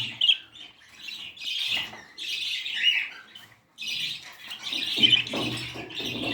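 Small caged birds of various colours and sizes chirp and tweet continuously in a breeding setup, several birds calling at once with bright repeated chirps and brief squawks, close by.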